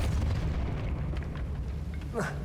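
A Depulso force spell in Hogwarts Legacy bursts out as a booming, rumbling whoosh over continuous game noise, followed by a rising swept chime near the end, with speech over it.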